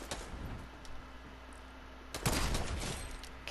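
Sniper rifle shots in Fortnite ring out amid game ambience, with one loud burst near the two-second mark followed by lingering noisy reverb, heard alone without talk.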